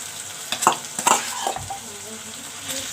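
Meat tipped into fried spice masala in a home kitchen, with a few stirring scrapes and clatters over a steady sizzle.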